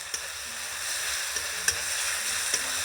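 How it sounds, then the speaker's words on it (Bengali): Ginger garlic paste frying with onions in a pan for soya chili, a soft steady sizzle with a few light scraping taps of a spoon, close and fairly quiet. "এবার আদা রসুনের পেস্ট দেওয়া হয়ে গেল। তো এটা একটু ভালো করে ভেজে নেওয়া হবে"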